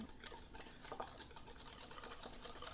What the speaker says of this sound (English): mix that together until that sugar is just about dissolved